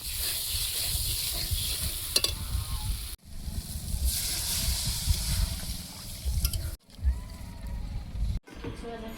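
Potatoes sautéed with spices in a pan give a steady sizzle under repeated stirring and scraping, broken by a few abrupt cuts.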